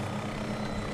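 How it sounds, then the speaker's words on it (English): A helicopter in the Garry's Mod video game, WAC aircraft on a harbor map, drones steadily as it slowly descends, a low continuous rotor hum with no talk over it. "you can just slowly descend the helicopter"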